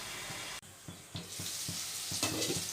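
Mutton pieces cooking with rock salt in a pot, a steady close bubbling sizzle with a few soft clinks and stirring noises, gradually growing a little louder, no talk.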